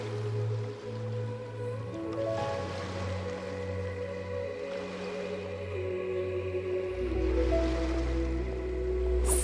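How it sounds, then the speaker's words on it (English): Ocean waves wash steadily in Genshin Impact at sea aboard a ship, a broad soft surf swell under a sustained low musical drone and tones, building slightly toward the end. "The sound of the ocean waves."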